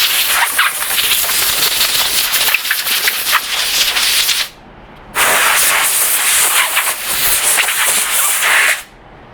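Compressed air blasts powder coating dust off a person's arms in a small powder coating shop: two long, loud, close hissing bursts separated by a brief pause.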